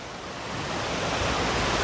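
Water rushing beneath a waterfall footbridge in a park in Volkovysk, Belarus, a steady broadband roar that swells slightly louder and stays close, with no voices.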